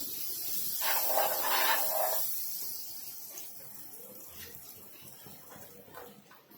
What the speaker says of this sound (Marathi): आपण पाव गरम करून घेऊया आपण इथे ना बटर लावून घेऊया तव्याला